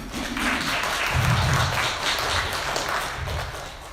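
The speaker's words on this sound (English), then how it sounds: "Let's give a round warm of applause for Venerable Dahong." Audience applause for Venerable Dahong, a Burmese Theravada monk, at an AAPI mental health panel; a steady, moderate wash of clapping runs the full length, with faint low voices murmuring underneath.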